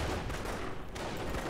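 Dense, continuous gunfire rattles in the Company of Heroes war game as American troops shoot at Nazi soldiers, a loud, unbroken volley with no talking.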